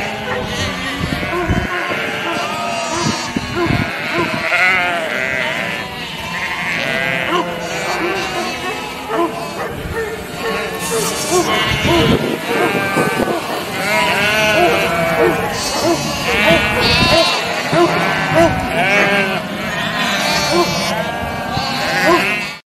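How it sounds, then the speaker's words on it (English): Sheep bleat again and again in loud, wavering baas, several calls overlapping and following one another closely across a long stretch of barnyard sound. "The sheep says baa."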